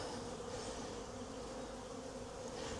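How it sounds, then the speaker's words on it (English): Honey bees in a small hive box drone in a continuous, even buzz, close by and steady throughout, with no voices. "Not a particularly big box of bees"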